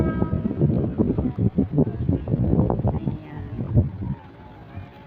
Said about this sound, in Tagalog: Mahangin, di ba? Mahangin.